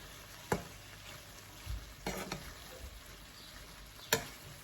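Prawn pasta sauce with roasted pepper gets stir-fried in a pan, giving a quiet, soft sizzle broken by a few scattered scrapes and clinks of stirring, heard alone and fairly faint.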